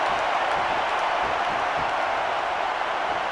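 A video game arena crowd in WWE SmackDown vs Raw 2006 produces a steady, dense roar of cheering, a continuous loud wash of noise with no breaks.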